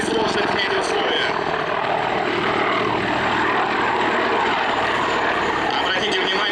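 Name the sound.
military attack helicopter flying at MAKS-2021 air show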